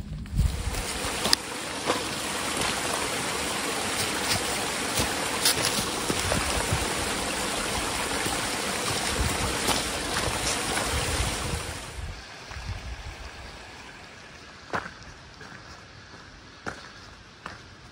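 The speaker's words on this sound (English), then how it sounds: "Streams on either side of the trail." Streams flowing on either side of a green, mossy forest trail in Pennsylvania, a broad continuous rush of water that is loud for twelve seconds and then drops to a softer, quieter flow with a few faint knocks.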